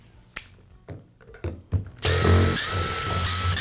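A cordless power tool backs out the housing screws on a Milwaukee impact wrench: a few sharp handling clicks and taps, then a loud, steady close-up whir that runs to the end.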